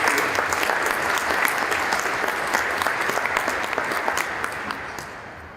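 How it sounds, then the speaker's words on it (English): An audience claps loudly and steadily at a commemoration of the Americans with Disabilities Act anniversary, a dense, even round of applause that carries throughout and tapers slightly at the end. "let's give a round of applause for those significant achievements"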